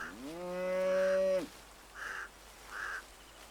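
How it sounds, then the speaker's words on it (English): Wild gaur cattle in a Brazilian rainforest: one long, deep, harmonically rich moo lasting over a second, then two short, higher calls a little apart, fairly clear against quiet forest background. "These wild cattle are called gar."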